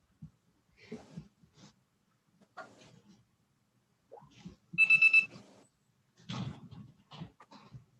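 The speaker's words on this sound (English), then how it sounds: "I just hear my phone beeping" A phone beeps in short electronic tones partway through, loud and distinct, while a person talks quietly on a conference call before and after.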